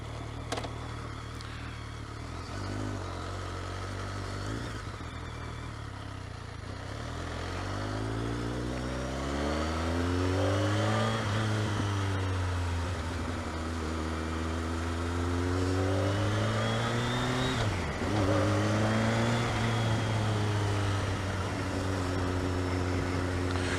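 A motorbike is ridden, its engine droning steadily then rising and falling through gear changes and revs, with loud wind rush throughout and no talk.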